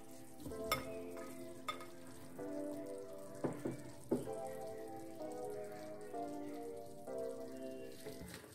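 Carrots and meat fry in a pan with a soft, continuous sizzle, broken now and then by faint clinks and scrapes of stirring.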